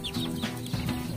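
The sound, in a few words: Aseel chickens clucking in backyard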